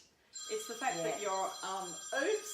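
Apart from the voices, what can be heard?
phone ringing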